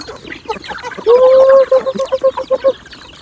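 A chicken clucks loudly and close by, a sustained call followed by a run of rhythmic clucks, over faint background noise from a rural home.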